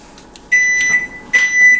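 A kitchen timer beeps in two bursts of high, steady electronic tones, loud and close, with a short gap between them and no talking.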